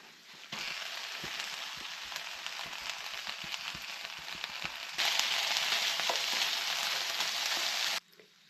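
Brown lentils tipped into a frying pan of sweet potato with the heat switched off, making a close, steady crackling sizzle that grows louder midway before stopping abruptly.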